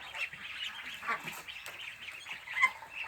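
Yi Liang ducks raised as breeding stock on a farm quack and honk steadily at moderate distance, with overlapping calls from the flock and a louder call near the end.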